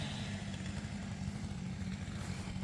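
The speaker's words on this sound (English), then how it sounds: "the RPMs those saws run at are about the same" A hot-rodded Husqvarna 254 chainsaw runs at a steady high rev, its engine drone loud and continuous from start to finish with no pauses.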